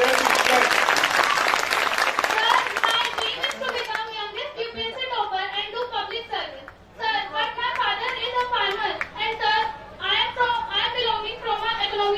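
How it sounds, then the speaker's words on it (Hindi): An audience at a school event in Jagannathpur breaks into loud, dense applause for several seconds; it then fades and voices, some of them children's, talk over the murmuring crowd. "दो ताली बजाओ"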